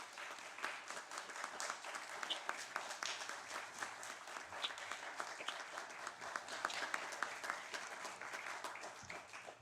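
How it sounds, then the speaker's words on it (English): A room of people at a homeowners' association board candidate forum clapping in sustained applause, a dense steady patter of many hands lasting several seconds without speech. "How about a round of applause for these folks?"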